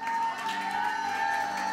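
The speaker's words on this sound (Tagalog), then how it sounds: "Malakas na palakpak sa Diyos na buhay." A church congregation at worship applauds and shouts together, a dense, sustained crowd roar of clapping and voices with a steady tone running underneath.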